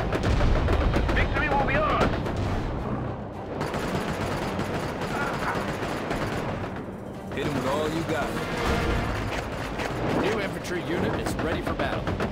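Sustained gunfire and artillery from a World War Two real-time strategy battle, dense rapid shots and heavy booms continuing throughout at steady loudness, briefly thinning near the middle before building again.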